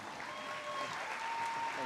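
An audience at a Children's Advocacy Days event applauds a juvenile court judge coming to the stage, a full, continuous wash of clapping from many people, with a faint thin tone running through it.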